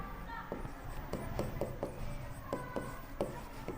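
Chalk or marker scrapes and taps against a board during a maths lesson, a run of short, uneven strokes set close together with a faint voice nearby.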